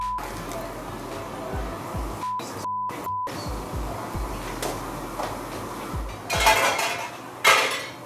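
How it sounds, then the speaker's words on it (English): Chorizo-stuffed squids cooking too hot in a pan on a restaurant stove, amid clattering pans and utensils, with two sharp bursting pops near the end over kitchen bustle. "These squids, they're exploding."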